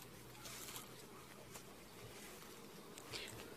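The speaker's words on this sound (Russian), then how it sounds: "Пчелки, пчелки." Honeybees, including Carpathian bees, drone in a steady, dense hum around the hives and a water feeder in a family apiary, close and continuous with no talking.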